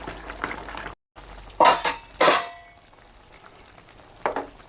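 Crab curry simmers in a pan while a spoon stirs it in several short bursts of scraping and bubbling, separated by quieter stretches of gentle cooking noise.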